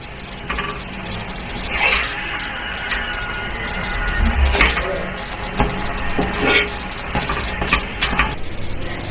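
A green peas lachha paratha fries in a pan with a continuous loud sizzle and crackle, close by, punctuated by scraping and turning sounds.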